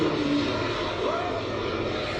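An H135 four-blade twin-engine helicopter's rotor and engine roar steadily and loudly, a continuous churning whoosh of rotor downwash close by.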